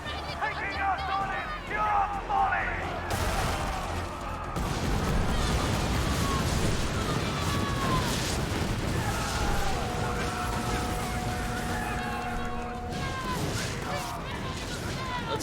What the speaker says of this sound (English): Man, this is just so much gunfire.